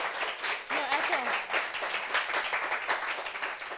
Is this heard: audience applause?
yes